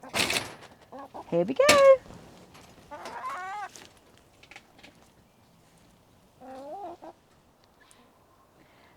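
Backyard chickens clucking while they free range in a garden, a few short bursts near and far, mostly later in the clip, after a person's speech at the start.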